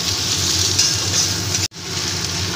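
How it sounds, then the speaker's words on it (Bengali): Chopped beans, vegetables and noodles frying together in a pan for egg chowmein, a loud, dense, continuous sizzling hiss cut by one sudden brief dropout. "সব কিছু একসাথে আমি ভেজে নেব, ভালো করে একটু ভেজে নেব।"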